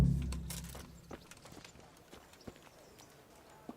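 Horse hooves clip-clop at a walk in a medieval video game, a dappled gray horse being mounted; the steps are faint and spaced out after a louder opening thump, with quiet ambient background.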